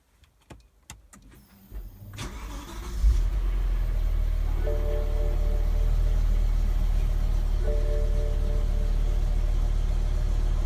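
A BMW E60 M5 cranks and fires up after an oil change, preceded by a few clicks and the starter whir, then settles into a steady, low idle that continues close and even.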